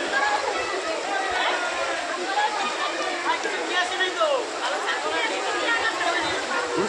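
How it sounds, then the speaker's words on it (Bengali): Water from a hillside waterfall in Assam rushes in a steady, broad hiss near a hill ashram, continuous and fairly loud, with people's chatter faintly mixed into the flow. "ঝর্ণার জল।"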